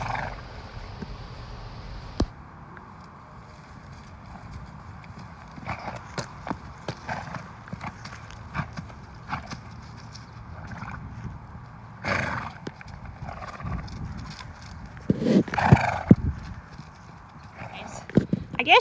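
A horse moves about, hooves clip-clopping in scattered steps, with a louder neigh or snort near the end; the sounds are moderately close over a steady background.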